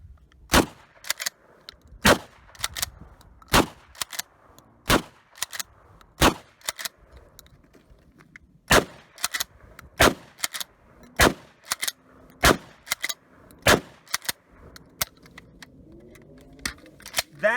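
A Mossberg 590M magazine-fed shotgun firing Winchester birdshot outdoors, about fifteen loud sharp blasts at a steady pace, each followed by a brief ringing decay and quiet gaps, with no talking.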